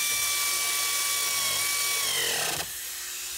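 Power tool whirring steadily up close while loosening Torx bolts on a Jeep tire carrier hinge, pitch dropping as it winds down and cuts off, leaving a faint hum.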